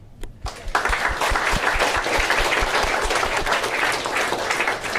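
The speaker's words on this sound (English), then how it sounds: "And I think that deserves some applause." Wedding guests break into sustained applause after a brief quiet start, a dense wash of many hands clapping steadily and fairly loud for several seconds.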